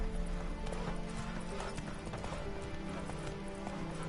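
Roach the horse gallops in The Witcher 3: Wild Hunt, a rapid, steady clip-clop of hooves close by over an outdoor bed of ambient game noise.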